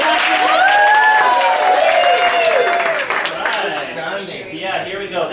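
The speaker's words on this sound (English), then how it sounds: "Let's give a big round of applause" Studio audience at a talk show breaks into loud, sustained applause with whoops and voices mixed in, the clapping thinning out toward the end.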